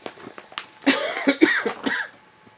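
A woman coughs several times in quick, close succession while suffering a reaction to cedar, the rough bursts clustered into a fit that fades into quiet breathing.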